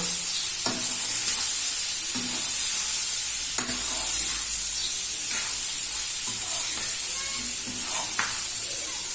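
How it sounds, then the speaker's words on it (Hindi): Chicken curry frying in a pan as it is stirred, a loud continuous close sizzle with repeated soft scraping strokes of the spoon at a slow, steady rhythm. "अभी देखो इसको ऐसा हिला देना, आराम से हिला देना इसको।"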